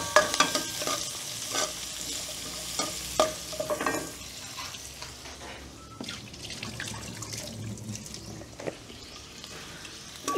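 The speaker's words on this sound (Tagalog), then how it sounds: "Nagisa na po natin yung bawang at sibuyas." Garlic and onion being sautéed in oil left over from frying milkfish, heard as a sizzle broken by repeated spatula scrapes and knocks against the pan, with a watery hiss in the background.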